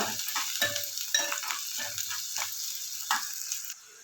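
Sliced onions and green chillies fry in a pan with a continuous close sizzle, broken by scraping stirs with a spatula, until the hiss cuts off near the end.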